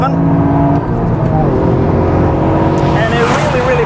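Toyota GR Yaris four-wheel-drive rally-style hatchback engine pulling hard toward its red line at 7,000 rpm, a loud steady in-cabin drone with rising harmonics, under someone talking.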